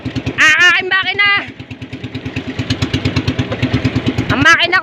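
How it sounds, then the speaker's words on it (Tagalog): A motorcycle engine sputters and putters unevenly, a rapid pulsing idle that chugs on near and loud, with voices shouting over its start and end. "Ang makina ko pateka-teka!"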